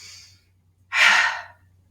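Steady breathing during a chair yoga session: a soft airy breath fades out, then after a short pause comes a stronger, louder exhale through the mouth lasting about half a second, close to the microphone, with a low hum underneath.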